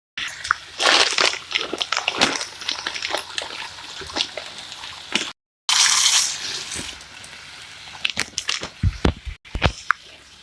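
Fat drained from cooked minced meat in a pan for a pasta bake, heard as sloshing, splashing liquid with scraping, a brief break, then more pouring and clatter close by.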